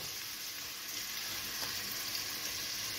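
Steady bright sizzling of onion frying in hot olive oil, continuous and close, with no talking.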